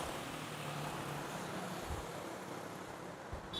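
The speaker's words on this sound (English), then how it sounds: "actually we have another takeoff here at runway 13" A Cebu Pacific airliner takes off from runway 13 at Manila airport, bound for Panglao, Bohol, as a steady, broad, distant engine roar that holds evenly throughout with no voices.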